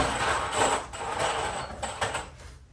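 Screws being driven into wood during a carport-to-man-cave conversion, a continuous gritty whirring grind with brief pauses between bursts, fairly close and loud, no talking.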